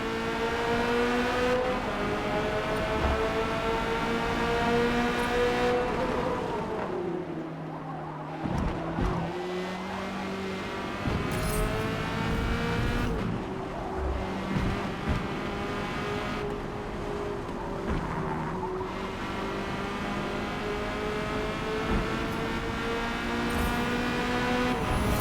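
Corvette C8.R race car lapping Yas Marina in Forza Motorsport, its engine howling steadily with rising and falling revs through gear changes and corners, loud and continuous, with brief dips when lifting off.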